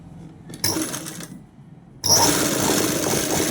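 A sewing machine starts and stops, then runs in a loud, steady burst while stitching a hem on a garment, close and alone.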